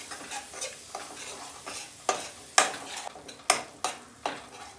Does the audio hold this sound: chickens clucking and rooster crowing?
no